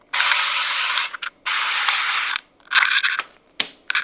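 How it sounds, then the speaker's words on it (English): Avocado oil cooking spray hissing from an aerosol can in a home kitchen, two long bursts followed by several shorter uneven spurts, close and fairly loud with no talk. "avocado oil spray"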